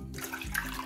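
Two cups of water pour into a pan set on a stove over low flame, a brief steady splashing gush heard up close.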